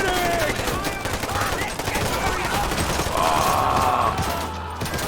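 Rapid gunfire rattles in a real-time strategy mod of Mafia 2 set in Gates of Hell, dense crackling volleys and bursts layered over game sound effects, with voices partly mixed in.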